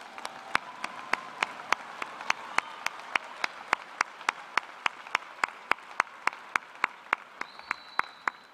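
Audience at a college graduation ceremony in Moncton clapping as graduates walk forward, heard as a slow, evenly spaced series of crisp claps over a quiet hall, steady in rhythm throughout.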